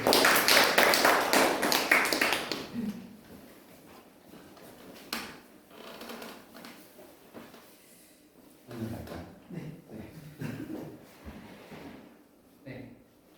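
An audience at an evening unification concert in a café gallery gives a short burst of applause to welcome a pianist, fading after about two seconds into quiet room sounds and faint voices.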